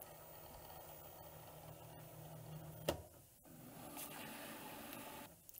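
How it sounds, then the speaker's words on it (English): A Cricut cutting machine loads a transfer sheet: a low, steady motor hum runs throughout, broken by a sharp click near the middle and a few faint mechanical ticks, heard close in a quiet room. "So I'll load it into the machine here. Hit the load button and then the machine will take care of the rest."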